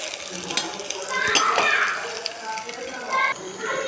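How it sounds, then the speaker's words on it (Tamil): Onion and potato sauté in a pan over a high flame, a lively sizzle with stirring scrapes and bursts of crackle that swell and ease across the moment. "ஆனியனையும் பொட்டேட்டோ வச்சு நாம் நல்லாவே வதக்கிக்கலாம்."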